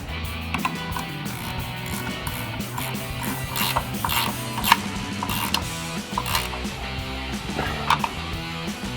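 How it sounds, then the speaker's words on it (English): A 14mm ratcheting wrench tightens a nut on a Tacoma shock mount during a suspension lift install, its quick ratchet clicks coming in short bursts under steady background music. "we're going to grab our 14mm ratcheting wrench and tighten that down"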